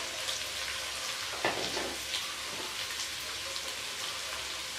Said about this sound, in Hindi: और इसको हम तकरीबन 3 से 4 मिनट इसी तरह फ्राई करेंगे।